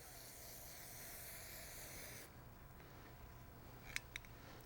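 A steady, faint hiss of an aerosol can spraying continuously onto quilt fabric on a flat surface for a couple of seconds, then fading, followed by a few small clicks.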